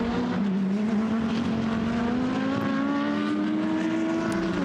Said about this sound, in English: So we look at the 58 McLaren coming through.